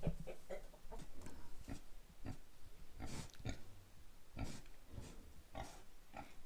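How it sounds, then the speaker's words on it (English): Pigs grunt and oink in a pig shed, with scattered short snorts and squeals at moderate distance and some clucking of chickens mixed in, fairly faint, with no talking. "The piggies have been moved into the pig shed"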